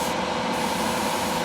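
Acrylic spray paint hissing steadily from an aerosol onto a Tamiya 1/6 Yamaha YZ250 motocross model, a continuous close, even spray with no pauses.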